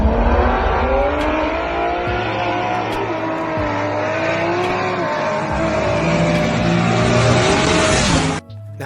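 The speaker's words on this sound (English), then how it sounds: "video will show that everything was fine until One Stock's car will suddenly lose control" Street drag racing car at night, its engine roaring loud and close at high revs for the whole stretch, pitch climbing through gear changes before cutting off abruptly at the end.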